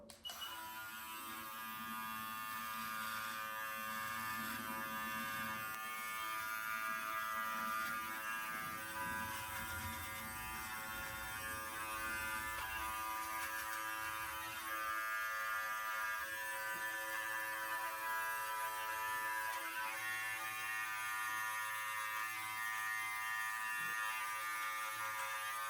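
An electric trimmer cuts along a beard neckline, giving a steady, close buzz that runs unbroken for the whole stretch with slight changes in tone as it moves across the skin. No one speaks.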